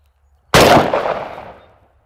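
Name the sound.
rifle shots firing Ammo Inc .223 frangible rounds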